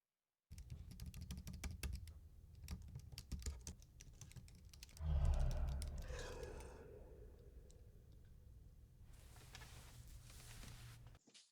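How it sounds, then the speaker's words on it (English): Clicky typing on a computer keyboard, keys tapped in quick irregular bursts at close range with a louder thump midway, no voices present. "show more of the typing"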